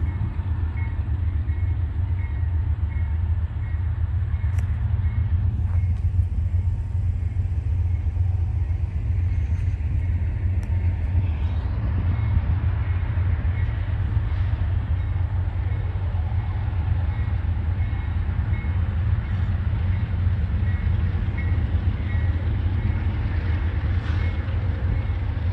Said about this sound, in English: The grain train coming